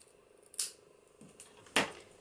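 Scissors snip through a small piece of cardboard for a layered papercraft birthday card: two sharp, close cuts with a fainter snip between, in an otherwise quiet room.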